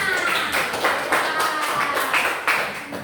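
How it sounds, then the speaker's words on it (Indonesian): Classroom children at an elementary school clapping hands together, a rapid, uneven patter of many small palms filling the room at moderate loudness, with faint voices mixed in. "Bagus, tepuk tangan."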